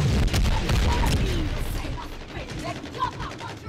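Grenade blasts and gunfire in a first-person shooter game crack in dense bursts, loud and close at first and thinning out toward the end, with no voices over the top.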